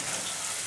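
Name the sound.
chopped onion and green chillies frying in mustard oil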